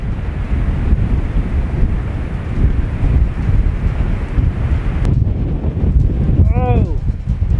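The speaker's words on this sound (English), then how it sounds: "Dust storm coming through, Jess." Strong wind of a dust storm at a desert building site, buffeting the microphone in a loud, continuous roar before dropping away near the end, where a voice briefly rises.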